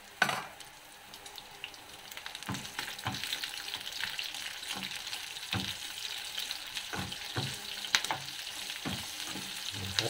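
Onion sautés with pork in a pan for a Filipino mung bean dish, giving a steady, moderately quiet sizzle broken by repeated scraping and clicking stirring strokes, with no talking.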